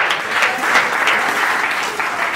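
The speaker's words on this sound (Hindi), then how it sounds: "तो एक बार जोरदार तालियां बाबूलाल डिंगिया के लिए" Audience applause at a Hindi comic poetry gathering (hasya kavi sammelan), welcoming a poet from Rajasthan: dense, steady clapping from a crowd throughout, with no voices heard.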